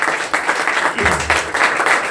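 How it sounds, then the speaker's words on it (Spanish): A church congregation claps hands together in a sustained offering of applause, a dense, steady patter of many palms filling the room, with a brief voice rising partway through. "Le damos una ofrenda de palmas a nuestro buen Dios"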